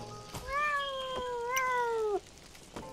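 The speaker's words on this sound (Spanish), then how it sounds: "Ah, es un gato" A single drawn-out cat meow from the video game Sir Whoopass, clear and tonal, lasting about a second and a half, with no talk over it.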